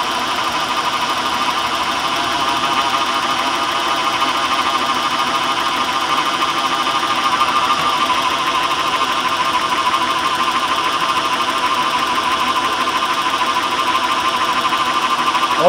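Honda car engine idling during diagnosis of a P1399 fault code with ignition coils being pulled: a loud, steady mechanical hum with a fast, even ticking pulse, close and constant throughout.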